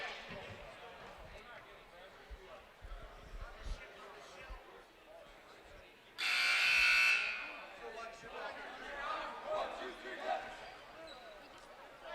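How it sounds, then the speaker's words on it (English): A loud, harsh basketball game buzzer in a high school gym sounds for about a second, rising over the background of bouncing balls, crowd murmur and talk. "That will be the first buzzer, indicating the first warning call from the refs"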